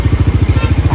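An uncle's motorcycle engine idles nearby, loud and close, with a quick, even thumping beat throughout the short burst.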